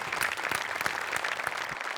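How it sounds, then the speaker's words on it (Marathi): An audience at a Marathi television comedy show breaks into steady, loud applause, a dense wash of clapping that continues throughout with no talk over it. "त्यामुळे नमासाठी पण एकदा जोरदार टाळ्या व्हायला पाहिजेत"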